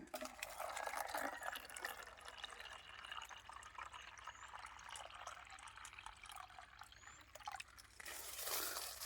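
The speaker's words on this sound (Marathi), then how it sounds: "आपण परत आता पाणी ठेवूया जुन्याच डब्यामध्ये" Water splashes and trickles steadily into an old container for several seconds, a continuous bright gurgling pour close by, with a louder burst near the end, outdoors in a forest.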